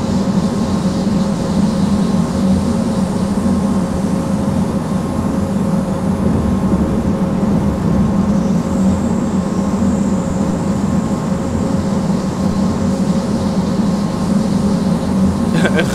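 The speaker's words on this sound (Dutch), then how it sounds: "Ik rijd momenteel in de BR-111 met één kapotte trein aan de achterkant." A BR 111 electric locomotive in Train Simulator 2017 hauls a broken-down train coupled behind it, a loud steady cab drone with a constant hum and tonal whine, no speech.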